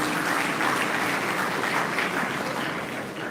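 Sustained applause from a seated audience at a university convocation ceremony, a dense steady roar of many hands clapping at moderate volume for a few seconds without pause.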